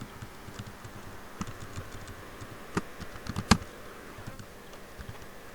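Typing on a computer keyboard: scattered soft key clicks in an irregular rhythm, faint and close, with one sharper tap near the end.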